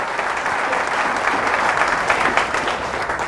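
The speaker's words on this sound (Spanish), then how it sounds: "Fuertes aplausos al Rey de Reyes y Señor de Señores" A church congregation applauds loudly in praise of Jesus, a dense, steady roar of many hands clapping together without a break.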